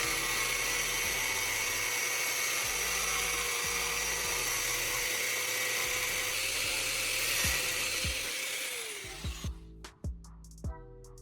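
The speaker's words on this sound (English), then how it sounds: "Using an angle grinder, I'll carefully cut out this window." An angle grinder cuts a loading window into a pipe for a homemade onion slicer, a loud steady high whine running for about nine seconds before it spins down, followed by a few short knocks.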